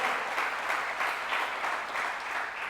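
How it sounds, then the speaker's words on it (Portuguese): Church congregation applauding during a sermon, a steady wash of clapping that holds at even strength throughout, fairly close and filling the room. "Dá um aplauso aí, pelo amor de Deus."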